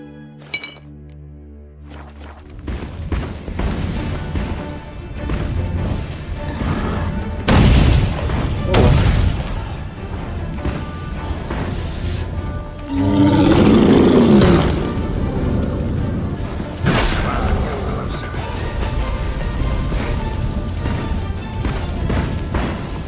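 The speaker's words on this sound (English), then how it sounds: "Fire elemental." Combat against a fire elemental in The Witcher 3, with heavy booming impacts, clinking metallic hits and roaring bursts layered over game music, loud and continuous with a big surge mid-fight.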